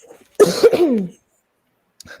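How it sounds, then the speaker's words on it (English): A single close, raspy cough burst, about a second long, followed by silence and a faint trailing sound. "sorry, I'm coughing."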